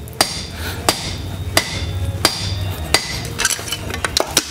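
A cross peen hammer fullers a hot copper spatula blank at the forge: about eight ringing metallic blows at a steady, roughly even pace, then a quicker cluster of lighter strikes at the end, close and loud.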